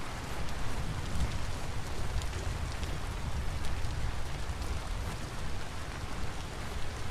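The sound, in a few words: rain in the video game Vintage Story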